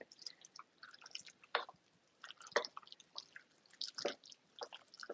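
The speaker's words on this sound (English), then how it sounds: "And I'm going to stir that in." Vegan taco mac and cheese stirred with crispy noodles, soft wet squelching and sticky clicks at an irregular pace, quiet and close.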